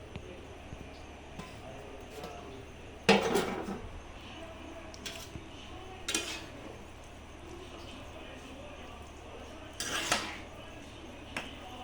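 A spoon clanks and scrapes inside a pot while a jackfruit vegetable dish is stirred, in three or four distinct bursts separated by quieter stretches of faint kitchen noise.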